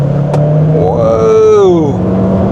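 Chery Tiggo Cross accelerating in normal mode, engine pitch rising then settling and falling as it pulls away, loud and close with a brief click at the start.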